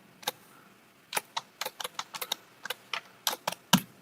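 Someone types code on a computer keyboard in irregular bursts of crisp, close keystrokes, with short pauses between clusters of taps.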